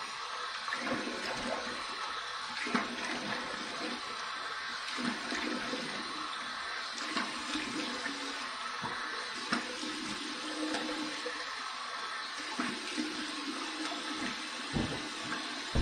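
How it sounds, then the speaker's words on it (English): Warm water runs steadily from a tap for a rinse after a shave with a Mossei Mono stainless steel injector razor, making a continuous close splashing rush with small bumps and no talking. "Here's my warm water rinse."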